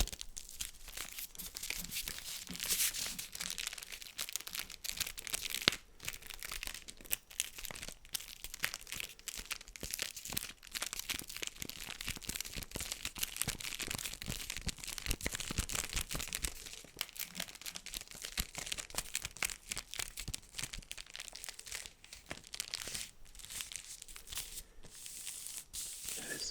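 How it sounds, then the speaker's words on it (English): Thick paper crinkling and tearing over crinklier sheets beneath, a dense, steady, close-up rustle with a muted, damped texture, continuous for the whole stretch with no talking. "That is such a unique crinkle sound because it's like muted by the thick paper and the crinkly papers underneath"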